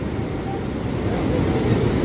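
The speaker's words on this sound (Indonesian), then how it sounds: "Cuman sekarang kondisinya lagi ombak besar ya" Steady roar of big waves breaking on a south-coast beach in rain, broad and continuous, with wind buffeting the microphone throughout.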